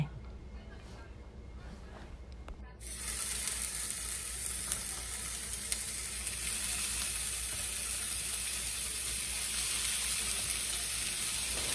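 Rolled food for New Year osechi sears in oil in a pan, starting with quiet handling before a sudden loud, steady sizzle that holds close and continuous to the end.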